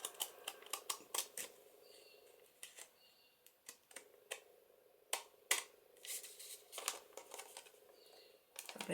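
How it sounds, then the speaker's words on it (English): Pinking shears snipping through vellum paper while making a paper bag, a quiet series of crisp, irregular clicks and snips close by, with brief paper rustles between cuts. "Now we'll use our pinking shears and cut along here."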